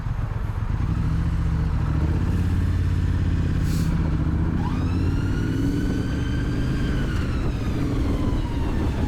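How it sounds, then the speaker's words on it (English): A Triumph Street Scrambler motorcycle engine runs loud and close while riding, with rising and falling revs and a shift into second gear, and a siren-like whine passes in the background. "Solid clunk into second there."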